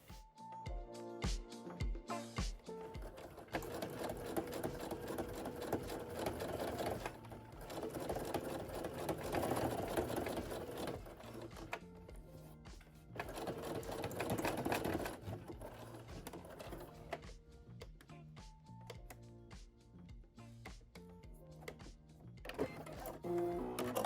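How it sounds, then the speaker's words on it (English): A sewing machine base-stitches a denim jacket pocket flap with a long, steady, close run of rapid mechanical stitching that speeds up and slows down over the course of the pass, with a few clicks at the start. "you're going to then base stitch together the pocket flap to the upper edge of the front, stitching 1/4 of an inch"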